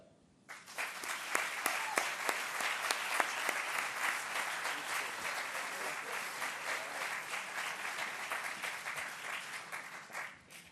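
An audience at a university engineering school groundbreaking ceremony gives sustained applause welcoming a speaker. The clapping is dense and steady, starts suddenly, holds for about ten seconds and tapers off at the end.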